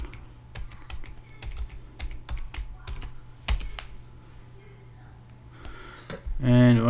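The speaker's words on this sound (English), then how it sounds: "Click here and put your password in." Someone types a password on a computer keyboard, producing a sparse run of crisp, close key clicks with irregular gaps and one sharper tap, followed by a brief louder mechanical sound at the end.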